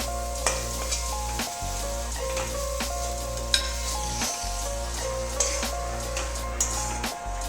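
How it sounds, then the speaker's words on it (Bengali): Ground cumin, turmeric, salt and chili powder sautéing in a pan, a continuous close sizzle with occasional soft scrapes and taps of a spatula, and no voices. "মশলাটা সুন্দর করে কষিয়ে নিয়েছি।"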